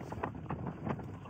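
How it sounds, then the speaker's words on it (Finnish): Strong headwind buffets the microphone while winter cycling through blowing snow on a gravel ride, a steady low roar with gusty surges throughout and no talk. "Vasta tuuli."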